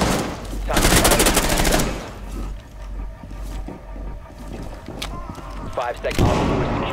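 Gunfire in Rainbow Six Siege during a Tower team deathmatch: a loud burst of rapid automatic fire up front, followed by scattered shots and mechanical clatter, with voices speaking over parts of it.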